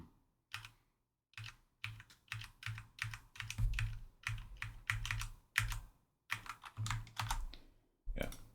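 Bursts of typing on a computer keyboard, close and clear, with quick irregular key clicks in short runs separated by brief pauses.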